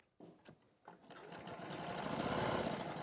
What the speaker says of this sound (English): So I'm just sewing directly on the line.